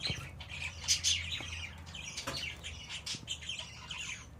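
Small birds chirp and squawk close by in quick, overlapping calls, with a few soft flutters and rustles between them.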